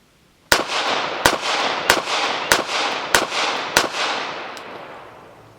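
A Girsan MC14 G84 pistol, a Beretta Cheetah clone, fired six times in an even rhythm about every 0.6 seconds, each sharp crack loud and close with a lingering echo fading after the last shot.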